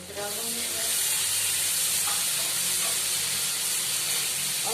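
Onions frying in a pan for a Punjabi-style curry, a steady broadband sizzle and hiss that runs continuously and fairly loud throughout, with faint scraping touches.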